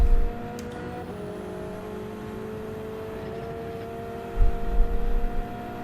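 Porsche race car in Gran Turismo 7 on the Nürburgring Nordschleife, its engine a steady droning whir throughout, swelling with a closer rumble near the end as it passes.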